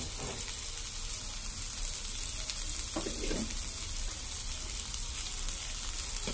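Gobi manchurian fried rice sizzles steadily in a hot pan while being stirred, a continuous frying hiss with a brief scraping burst of stirring near the middle, no talking.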